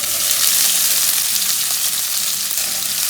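Boiled potatoes and green chilies fry with cumin seeds in hot oil, giving a loud, close, unbroken hiss and crackle of sizzling with no talk.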